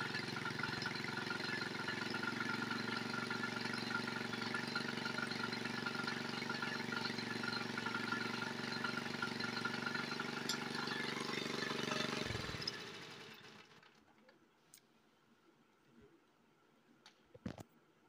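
A small kerosene engine run on petrol drones loudly and steadily with a tonal hum, then cuts out abruptly, leaving quiet with a couple of faint knocks.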